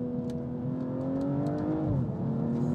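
A BMW M240i with a B58 engine revs on a manual downshift, a smooth tonal engine note that holds steady and then dips. Heard from inside the cabin at moderate level, with no talking.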